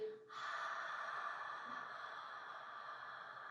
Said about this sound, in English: exhale through the mouth for this practice, cleansing breath